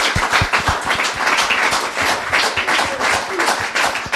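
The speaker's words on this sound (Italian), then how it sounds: "facciamogli un bel applauso" Applause at an Italian football club event, a steady round of audience clapping with distinct sharp claps close by, loud and sustained, with faint voices underneath.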